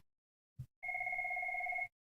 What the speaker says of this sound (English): That thing's, my old phone's going crazy.